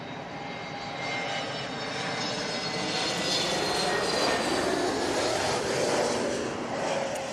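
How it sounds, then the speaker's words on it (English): An Airbus A321neo passes at London Heathrow, its jet engines a strong, steady roar with a whining tone that swells slightly and holds, heard at moderate distance without talk. "A321neo for Nige."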